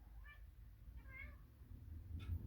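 A cat meows three times while another pet chases it indoors, short faint cries spaced about a second apart over low background rumble.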